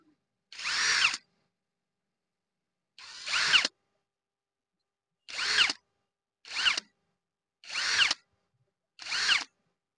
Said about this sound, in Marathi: आपण सगळे नट जे आहेत इलेक्ट्रिकल मशीन एकदा टाईट करून घेऊयात